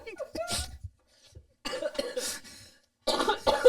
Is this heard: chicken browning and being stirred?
no